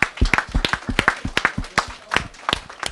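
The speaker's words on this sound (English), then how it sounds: "So give yourselves a round of applause right now." An audience applauds at an alumni career event, with sharp individual claps forming an uneven, fairly close patter rather than a dense roar.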